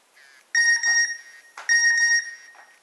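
A phone chimes twice with a short melodic message-notification ringtone, the two bright bursts about a second apart and heard alone in a quiet room.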